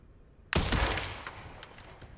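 A gunshot in Resident Evil: Requiem, one sharp, loud blast followed by a booming tail and faint echoing rattles that fade over the next second and a half.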